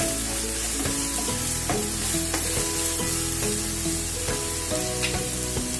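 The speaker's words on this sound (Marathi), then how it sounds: "कांद्याचा आणि आल्या लसणाचा तो कच्चा वास जाईपर्यंत आपण थोडं परतून घेऊ" Chopped onion, ginger and garlic sautéing in a hot pan, giving a loud, continuous sizzle broken by regular clinks and scrapes of a spoon stirring, with no one talking.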